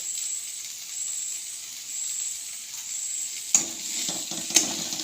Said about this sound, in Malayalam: ചോറ്റിക്ക് ഉള്ളിയും തക്കാളിയും വാട്ടുക.